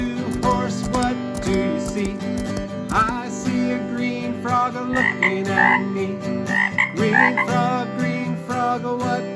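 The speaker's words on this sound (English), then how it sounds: "green frog, what do you see?" A frog croaks in several loud, repeated bursts over an ongoing musical background in a children's song, with no voices speaking.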